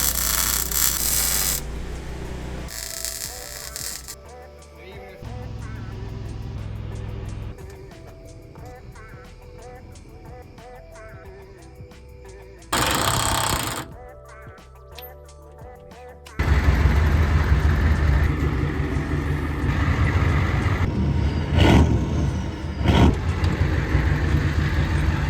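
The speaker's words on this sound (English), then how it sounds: "And now I'm gonna weld it out" Welding a traction bar bracket onto a pickup truck during fabrication, with separate bursts of crackling, buzzing arc noise broken by quieter pauses and louder shop sounds, close and harsh throughout.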